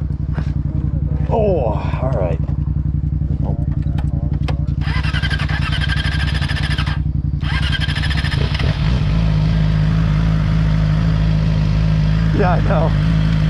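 A 2015 Yamaha R6 sport bike roars loudly and close while riding, its engine droning and revving steadily throughout, with people talking over the engine noise.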